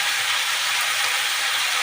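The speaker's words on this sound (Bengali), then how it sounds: "তো এগুলো আমরা ভালো করে ভেজে নেব।" Okra frying in a pan for bhindi masala, a steady, loud, even hiss of hot oil that carries on without break.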